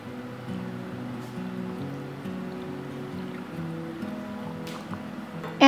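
Brine being poured over onions in a jar, a steady soft watery stream lasting several seconds, close and fairly quiet, ending with a sudden louder knock.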